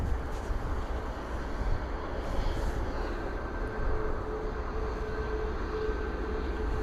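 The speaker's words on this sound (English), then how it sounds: "Our gorgeous TUI 737 now taxiing onto runway 27." A TUI Boeing 737 taxis onto runway 27 at Bristol Airport, heard as a steady, broad jet engine roar with a faint whine, continuous and moderately distant.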